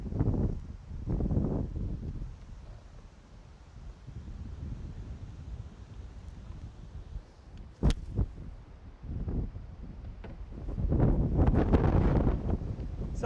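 Wind blows outdoors at a golf practice area, a low rumbling buffet that rises in gusts at the start and again near the end, moderately loud, with a sharp click partway through.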